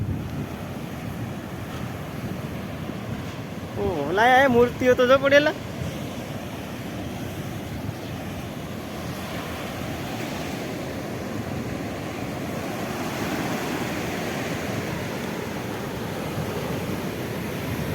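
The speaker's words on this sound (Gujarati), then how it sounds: "અહીંયા તમે દરિયો જોઈ શકો તોફાને છે આ દરિયો" Stormy sea surf breaking on the shore, a continuous loud roar of waves mixed with wind buffeting the microphone, with a brief voice speaking over it partway through.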